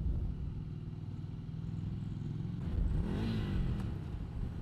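Ducati Scrambler 800 Icon motorcycle exhaust note, a steady low engine drone on the move that swells as the revs rise and fall, riding close with wind noise and no talk.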